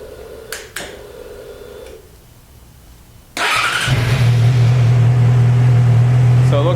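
A 2006–07 Yamaha R6 motorcycle fires up after a spark plug change: a few clicks and a quiet pause, then the engine catches abruptly and settles into a loud, steady idle.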